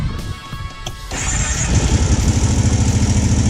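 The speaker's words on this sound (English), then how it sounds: "I'm gonna have to keep this thing running with the throttle" A motorcycle on its first ride, choke not working, is held running on the throttle: a sputtering catch gives way to a loud, steady, close idle with a fast pulsing beat and a high whine over it.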